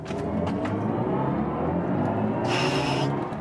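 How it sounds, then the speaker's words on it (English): An electric car boosting uphill with a synthetic acceleration sound: a steady rumbling drive noise with a brief, bright electronic whine swelling in near the end. "That sound experience definitely enhances the acceleration experience, definitely."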